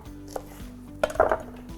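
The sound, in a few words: chopping red peppers with a knife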